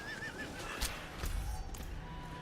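A horse mount in the game Diablo IV gives a short wavering whinny amid busy combat noise, with dull thuds and hoof-like knocks under the cry.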